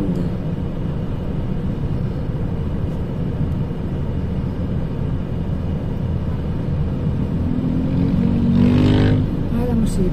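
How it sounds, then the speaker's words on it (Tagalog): Busy street traffic in the Philippines, with cars, tricycles and motorcycles, rumbles as a continuous engine drone. Near the end a single vehicle revs up and passes close by. "everywhere is car and tricycle and motorcycle"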